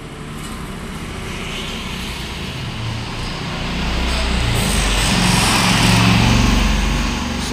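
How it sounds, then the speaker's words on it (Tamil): A small engine drones steadily close by beside a fishing tackle shop in Kanniyakumari, growing louder midway as if a vehicle draws nearer and passes, with no talk over it. "ஸோ வண்டியோட சவுண்டை கேட்டுகிட்டே இருக்குது"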